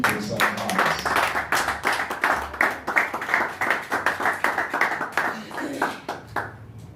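A church congregation claps in steady rhythm to acclaim Jesus, continuous hand claps throughout with singing or voices mixed underneath.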